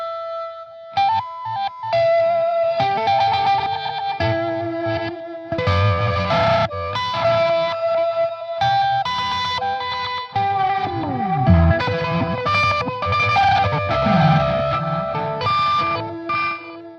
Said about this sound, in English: I'm using a Digitech Freakout a lot in this show as well